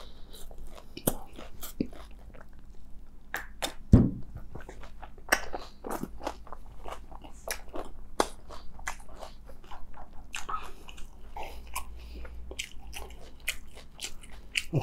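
Close-up crunching and biting as spicy panipuri (golgappa) shells are eaten, irregular crisp cracks and chewing over a quiet background with no talk.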